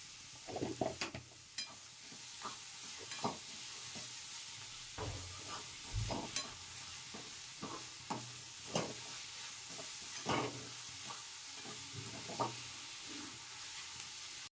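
Spices cooking in a pan with salt for a semolina and vegetable appe breakfast, a steady soft sizzle broken by repeated scraping stirs and occasional clinks of a spoon against the pan, close and fairly quiet.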